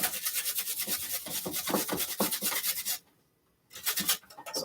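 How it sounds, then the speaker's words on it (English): Raw potatoes rubbed briskly against a grater, a fast rhythmic rasping that runs steadily, breaks off for a short pause, then resumes, close and loud. "All right, so let's grate our potatoes."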